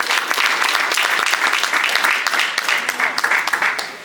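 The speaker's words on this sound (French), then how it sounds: "je vous invite à applaudir pour son excellence, Monsieur le Président de la République" Large audience applauding the President of the Republic at a Congolese organisations' gathering; loud, dense, sustained applause from a big crowd, steady throughout and tapering slightly at the end.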